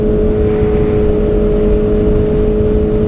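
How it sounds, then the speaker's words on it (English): A 2019 Kawasaki Ninja ZX-6R with a full M4 GP exhaust system is ridden at steady speed. The exhaust gives a constant, loud, humming drone over wind rumble, heard close. "I took this ride to show you guys how this new exhaust sounds"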